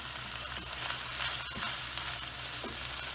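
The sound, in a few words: ground beef frying in a pan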